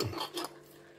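A utensil scrapes green curry paste from its container while cooking green Thai chicken curry, two or three short rasping scrapes close up in the first half second, then quiet.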